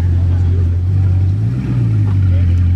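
A deep Bugatti engine rumbles steadily and loudly nearby, a low idling drone with a slight swell midway, with a voice faintly over it.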